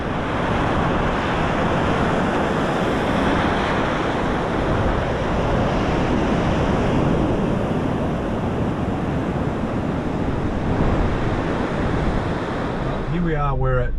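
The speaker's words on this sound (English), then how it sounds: "What a beautiful beach." Surf washing onto Broken Head beach in New South Wales, a steady loud roar of breaking waves with heavy wind buffeting the microphone throughout.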